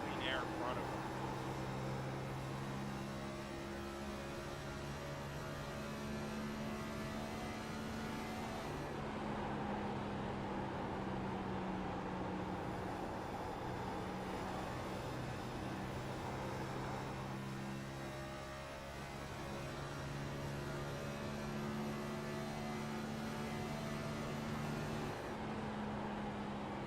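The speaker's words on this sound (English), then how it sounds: "Can hear the amount of throttle these cars will take around the speedway" On-board race car engine at full throttle lapping Atlanta Speedway during the Georgia Peach 210, a loud steady drone with shifting pitch that continues for the whole stretch.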